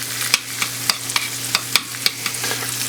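Pork chops and gravy cooking in a pan give a steady close sizzle and frying hiss, broken by sharp pops and spoon-like stirring clicks at irregular intervals, with a low constant hum underneath and no talking.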